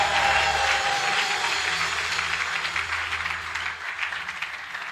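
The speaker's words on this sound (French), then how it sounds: "tes acclamations, tes cris de joie" A church congregation at a seminar applauds and cheers in a dense, sustained wash of clapping that fades gradually toward the end.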